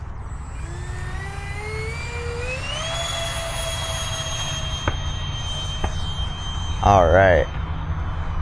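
A Freewing Lippisch P.15 64mm EDF radio-controlled jet takes off, its ducted fan whine rising steadily in pitch and holding as a high sustained tone, with a brief spoken word near the end.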